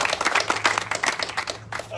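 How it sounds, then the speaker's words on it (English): A round of applause from guests at an outdoor ground breaking ceremony, brisk individual claps from a modest crowd forming a lively, uneven patter close by. "Let's give them a round of applause for being here."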